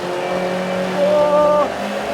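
An Alan Mann Racing Mk1 Ford Escort race car driven flat-out on track, its engine a loud, steady, close-up drone from inside that briefly climbs in pitch under load before settling.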